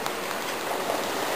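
Rain falls steadily while anglers fish from a bank for red drum, a dense, even hiss of drops filling the whole moment with no breaks and no voices.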